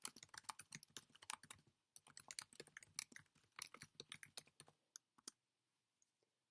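Fingers tapping quickly on a computer keyboard close by, a rapid run of crisp clicks with a short pause, then a few final keystrokes before silence.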